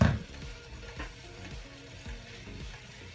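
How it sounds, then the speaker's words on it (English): Mushrooms stir-frying in chicken broth in a pan give a faint, steady sizzle with occasional soft scrapes and stirring bumps, without any talk. "So I'm gonna cook them in that chicken broth while I'm stir frying everything else."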